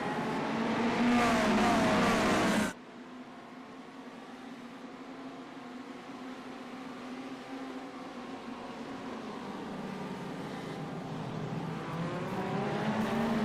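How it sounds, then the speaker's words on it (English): V8 GT3 race car engines in a racing video game at Spa-Francorchamps roar loudly for a few seconds, then cut abruptly to a steadier, quieter drone of the field's engines that slowly builds, with no talk. "let's just listen to the V8"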